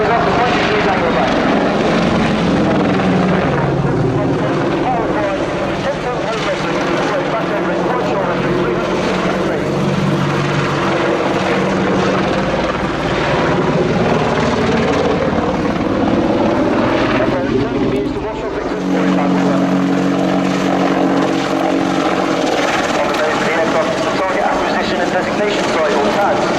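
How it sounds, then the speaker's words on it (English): Attack helicopter flying a 360-degree wingover at the Royal International Air Tattoo 2017 air show, its loud continuous rotor and engine roar sustained throughout with a brief dip, along with a commentator's voice over the public address. "the aircraft returns to ground centre for a close-up look at the 360-degree wing over"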